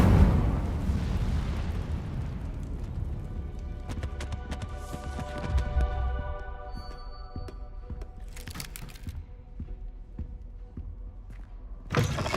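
An Incendio fire spell cast in Hogwarts Legacy, a loud whooshing, roaring burst of flame that slowly decays into a crackling tail, followed by a few sharp magical chimes and clicks with no talking.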